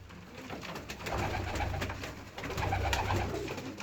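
Pigeons coo in low, rolling murmurs, several birds close by, with a faint rustle and clatter in the background.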